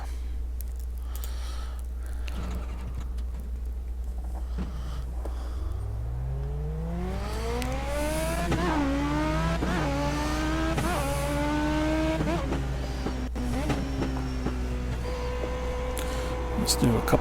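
Legend car engine in iRacing revving up through the gears on a lap, harmonics rising and falling with each shift, loud and steady over a constant low drone.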